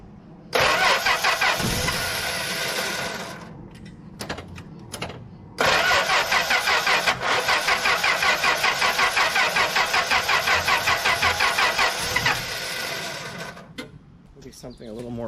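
A 1964 Plymouth Belvedere engine cranks over and over without catching, a loud, rapid rhythmic churning from the starter in long bursts with pauses between, close up.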